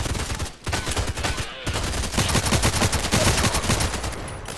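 Rapid hip-fire gunshots from Contract Wars rattle in dense, near-continuous bursts, loud and close, with short pauses around the first and second seconds. No talking.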